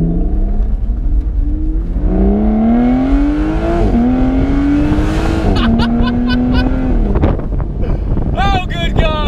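An Aston Martin Vanquish S Volante convertible, roof down, revs hard through several rising gear pulls with sharp shifts, loud and close over wind noise, then ends in crackling pops.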